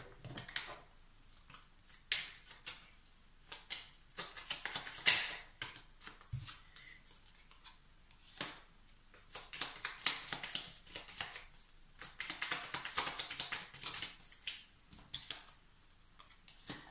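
Tarot cards being handled and laid out on a table, soft scattered snaps, slides and taps coming in irregular clusters, close and quiet.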